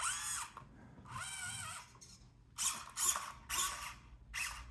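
A Kyosho Mini-Z 4x4 RC car's small electric motor revs in short bursts, a high whine rising and falling in pitch, with several quick close-up pulses after an initial longer spin.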